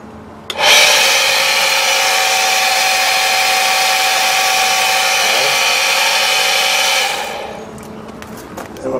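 Electric well pump, installed alongside a Harbor Freight hand pump, starts suddenly and runs as a loud, steady motor drone with a whining hum for about seven seconds, then cuts off and fades.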